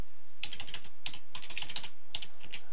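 A password being typed on a computer keyboard, with quick close clusters of crisp key taps arriving in short bursts separated by brief pauses.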